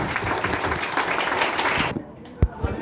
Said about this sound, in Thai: ขอเสียงปรบมือให้สโมสรตะกร้อราชบุรีฮะ